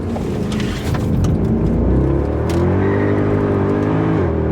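A Mercedes-Benz W204 C63 AMG engine drones loudly up close, pitch climbing and dipping as it revs through a corner, tyres and wind adding a steady roar.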